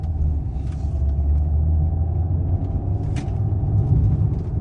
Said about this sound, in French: Je vais accélérer un peu quand même.